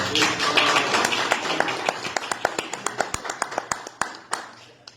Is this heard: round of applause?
yes